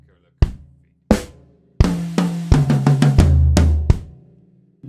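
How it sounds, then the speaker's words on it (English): On a drum kit, a fill runs over a bass drum kicked on every beat: a few spaced hits, then rapid descending tom strokes with the thumping kick underneath, closing on a ringing low drum. "It's quite nice to have the bass drum underneath when we're playing a fill."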